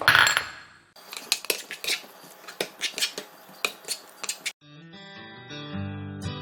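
Soya Mongolian with spring onion being mixed in a pan, with repeated metallic spoon clinks and scrapes in an uneven rhythm, close and fairly loud, followed by a stretch of tonal background music.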